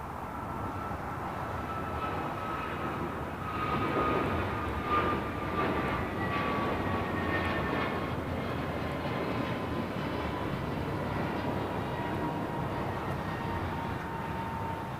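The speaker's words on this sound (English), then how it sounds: "This is Korean Air Flight 18 Super taking off to Seoul on the A380." Korean Air Airbus A380 takes off bound for Seoul, a loud steady jet engine roar filling the whole span with a rising whine on top, no talking.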